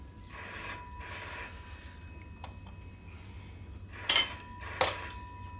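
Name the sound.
telephone ringing on and on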